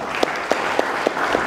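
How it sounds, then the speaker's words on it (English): An audience at a stakeholders meeting gives a round of applause, heard as a close, steady patter of clapping with a few louder individual claps standing out in a rough rhythm. "Let us give him another round of applause."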